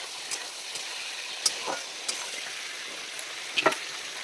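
Ridge gourd and potato sautéing in a pan with cumin paste and green chili, a soft steady sizzle with a few sharp scrapes of stirring spaced through it, close and alone.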